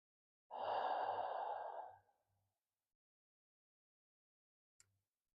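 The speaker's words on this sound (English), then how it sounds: "Breathing in." One slow, deep yoga breath, a long, soft, airy exhale lasting about a second and a half, fades into near silence, followed by a faint click.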